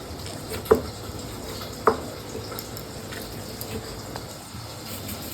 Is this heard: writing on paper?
no